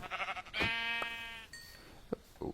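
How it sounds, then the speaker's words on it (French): A sheep in a video game lets out one clear, close bleat. Quieter clicks and soft game noises follow in otherwise calm surroundings. "J'ai vu un mouton."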